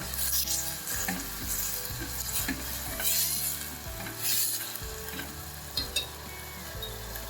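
Finely chopped radish sizzles in a pan while being stirred, with repeated scraping and clinking of the spoon against the pan over a steady fry, close and without speech.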